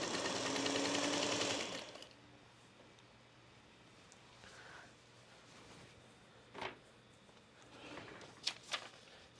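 A sewing machine stitches a Summer Getaway quilt in a steady, busy whir for about two seconds, then stops, leaving quiet room tone broken by a few light clicks and fabric handling sounds.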